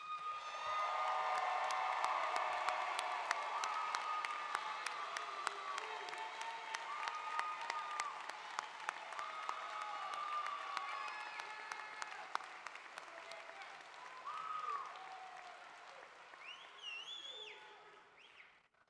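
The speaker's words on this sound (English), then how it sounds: "let's give our graduates one final round of applause" A large commencement crowd applauds graduates at a university spring ceremony, a sustained wash of clapping with faint cheers and whoops, steady throughout and tapering off at the close.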